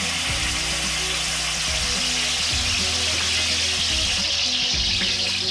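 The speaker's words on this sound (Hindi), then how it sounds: "और जिंजर गार्लिक पेस्ट डाल रही हूँ।" Ginger garlic paste and garlic fry in a pan for a fish karahi, giving a continuous loud close sizzle with intermittent scraping and stirring clatter throughout.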